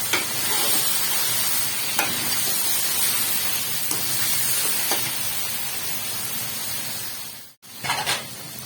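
Masala frying in ghee for chicken biryani, a steady loud sizzle and hiss with occasional stirring scrapes, briefly cut to silence near the end before the sizzling resumes.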